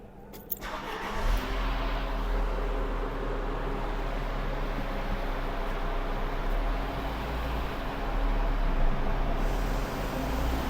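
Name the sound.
Peugeot Pars car engine revving on a dyno for top speed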